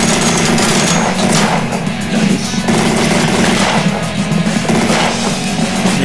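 Dense, rapid gunfire in the video game Slendytubbies rattles loudly and keeps going without a break, layered over a low droning hum.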